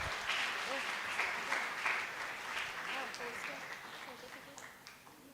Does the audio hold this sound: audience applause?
yes